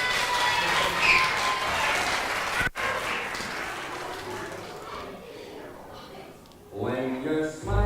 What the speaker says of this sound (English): give Birch a round of applause